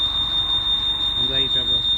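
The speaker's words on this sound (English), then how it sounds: "Sounds like one of those smoke alarms." A 2011 Mini Cooper Clubman gives off a sustained, piercing alarm-like squeal, a steady high whine running the whole time, with a person talking beneath it.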